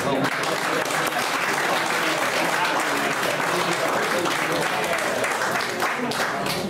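An audience at a hurling club night in Meath applauds, giving a dense, steady round of clapping that is loud and sustained throughout and that carries no talk over it.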